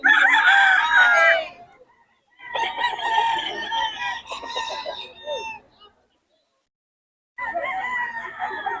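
Kelso bloodline gamefowl roosters at a market in Bocaue crow and cluck in loud, close bursts, broken by a gap of near silence before another round of crowing.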